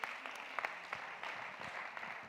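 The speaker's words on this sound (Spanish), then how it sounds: "Por favor, recibamos con un fuerte aplauso a Ainhoa Serrano Apiazú." Faint, steady applause from an audience at a technical conference welcoming a speaker, distant and even with a few sharper claps standing out.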